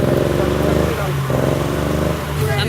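A Gusheshe car engine running in Johannesburg, a loud, steady, close drone that dips briefly near the one-second mark before settling back to an even, continuous rumble with no talk over it.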